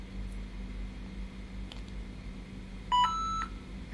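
A short synthetic electronic beep sounds once, clear and brief, over a quiet hum.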